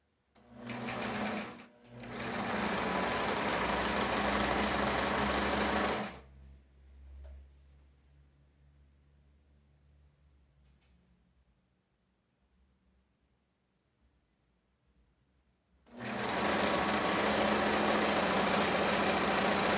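A sewing machine stitching the lining of a skirt runs in two loud, fast-whirring bursts separated by a quiet pause with faint handling noise, then starts up again at the end.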